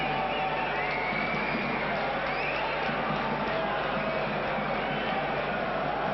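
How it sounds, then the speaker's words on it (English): Hockey arena crowd at the 1993 Canada–Finland world championship quarterfinal reacting to a Lindros body check behind the Finnish goal, a steady distant roar of many voices with a commentator talking over it. "Crowd responding to the hit that Lindros threw as a puck went around the back of the Finnish goal."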